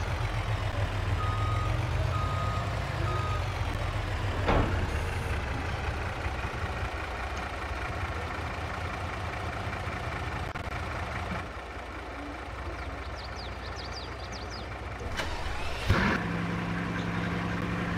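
A truck in the Farming Simulator 22 video game idles with a low, steady engine rumble while a reversing alarm beeps repeatedly, with a couple of sharp clunks along the way.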